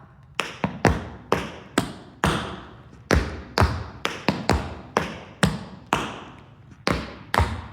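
Sharp, rhythmic taps of Appalachian clogging shoes strike a hard floor in quick syncopated groups, each hit crisp and close.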